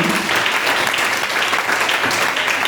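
A church congregation applauds and cheers together, a dense steady wash of clapping that holds throughout at even loudness, with faint voices mixed in.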